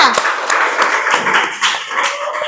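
A classroom of students clapping after a negotiation role-play demonstration, a short burst of scattered, uneven handclaps at close range with some chatter mixed in.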